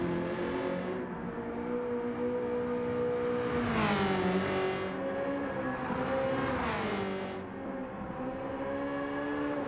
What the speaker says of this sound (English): The F-Type sounds good as well, yeah.